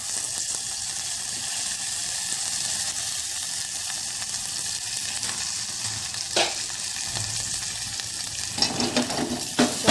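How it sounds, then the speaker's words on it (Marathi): Chilies crackle and sizzle steadily in hot tempering oil, a constant bright hiss with a few louder pops and spatters near the end. "मिरच्या मी फोडणीतच टाकते"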